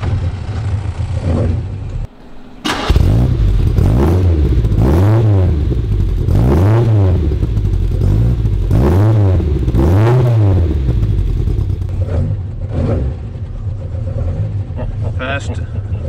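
A Lancia Fulvia 1600HF Fanalone Group 4 rally car engine cranks and catches, then revs repeatedly in loud rising and falling bursts heard up close from inside, with people talking around it.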